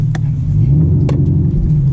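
A Chevrolet Camaro ZL1 1LE with a 10-speed and a manual stick shifter revs hard while driving, giving a loud, close, deep engine roar with a short surging blip and no talking.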